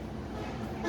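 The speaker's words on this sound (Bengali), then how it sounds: "এই যে এটা ঢাকা রংপুর হাইওয়ে।" A car horn toots on the Dhaka–Rangpur highway in Bangladesh, a steady honk rising near the end over continuous road traffic rumble.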